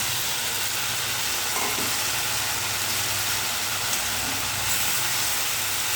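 Cornflour-battered fried okra goes into a pan of hot dry-chilli masala, giving a dense, even sizzle and hiss that runs steadily and fairly loud throughout, with no speech.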